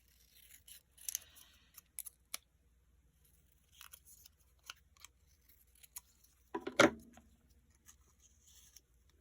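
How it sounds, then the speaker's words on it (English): Scissors snip a paper label at a quiet desk, a series of short crisp cuts with one louder closing snip near the end, set among faint rustles of paper crafting material. "I have this label that needs to be cut a little bit better."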